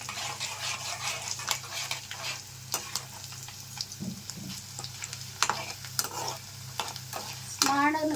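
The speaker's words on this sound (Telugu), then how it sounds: "తాలింపు గింజలు మాడకుండా కొంచెం ఎర్రగా వచ్చేంత వరకు వేయించుకోనండి" Tempering seeds and garlic crackle and sizzle in hot oil, with scattered pops and a spoon scraping and stirring the pan against a low steady hum.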